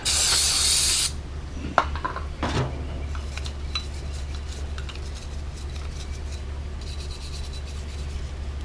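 Carb cleaner sprays in one loud hissing burst onto carburetor parts, followed by faint clinks and rubbing of metal pieces over a low steady hum.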